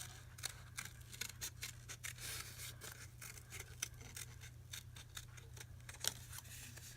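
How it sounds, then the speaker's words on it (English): Scissors fussy cutting paper for a memory deck, quiet, crisp snips repeating in a steady, quick rhythm over a low hum, close by, with no voice. "I'm going to go ahead and fussy cut the top of her out a little bit."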